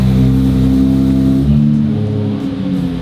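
A stock-exhaust Nissan Z roars loudly on a dyno, its engine holding a high rev, then dropping in pitch as it winds down, close and alone.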